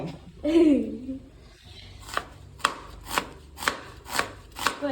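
Onions being chopped on a board give a regular series of sharp, close knife thuds, about one every half second, preceded by a brief voice.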